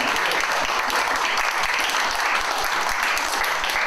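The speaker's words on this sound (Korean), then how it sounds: "다시 한번 박수" An audience applauding at the Yongsan Forum, a lecture event in Korea, with dense, steady clapping from many hands filling the room for a few seconds without a break.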